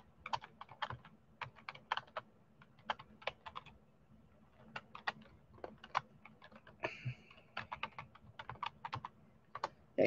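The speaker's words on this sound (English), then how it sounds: "I'm just going to type this in just to make sure" Rapid, uneven clicking of a computer keyboard being typed on during a live online auction, close and fairly quiet, with steady bursts of keystrokes and no talk.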